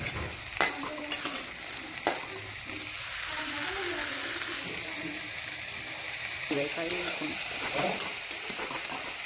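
Red chili chutney spices fry and sizzle in hot oil with a continuous hiss, broken by a few sharp stirring scrapes and clinks and some soft talk over the top.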